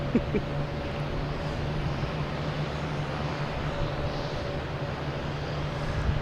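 A JetBlue Airbus A220 arriving from Charleston lands at Boston Logan at night, heard as a steady, distant jet rumble with a faint whine on top. The sound holds at an even level throughout, with no talk.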